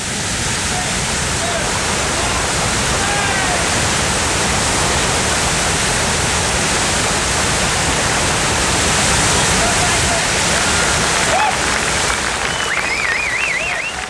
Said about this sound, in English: The director calls for white water.